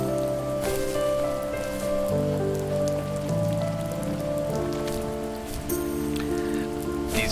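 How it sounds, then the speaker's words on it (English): Gentle light rain in the video game The First Tree, a soft continuous pitter-patter on surfaces layered under sustained, slowly shifting musical tones, even and unbroken throughout, with no speech. "These rain sound effects, it's a very gentle pitter-patter."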